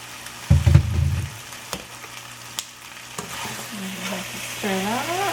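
Noodles stirred in a hot pan at home, a loud scraping stir burst early followed by steady sizzling and frying with occasional clinks of the utensil against the pan, no talking.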